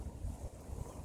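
Wind gusts buffet the microphone on a mountainside in summer, a low rumbling roar that swells and dips in quick irregular pulses, close and faint overall.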